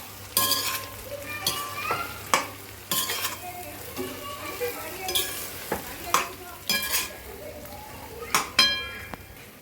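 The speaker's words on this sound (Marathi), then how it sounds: "गॅसची फ्लेम मोठी करून हे सर्व एकजीव करून घेऊया" Brinjal masala for a bharit-style vangyachi bhaji stirred in a pan over a high gas flame, with repeated scraping, clinking strokes of a spoon against metal over a steady sizzle.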